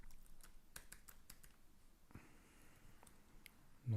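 Computer keyboard typed on while setting up an FTP server, a few quiet scattered keystrokes in short bursts with soft pauses between, close and fairly faint, no talk.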